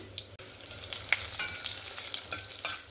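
Bay leaves and panch phoron sizzle and crackle softly in hot oil, with scattered small pops over a steady frying hiss.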